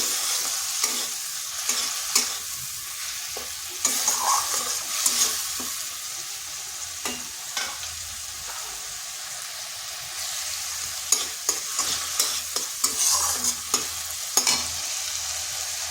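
Grated ginger with green chilli sautéing in a pan for a vegetarian potol curry, a steady close sizzle broken by irregular scraping stirs of the spatula, with no talking.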